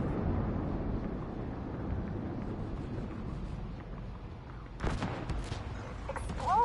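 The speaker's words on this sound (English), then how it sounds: "Explosions? What the hell?" Rumbling bursts of explosions and gunfire fill a battle in The Division 2, a dense continuous roar with sharper cracks near the end, no voices.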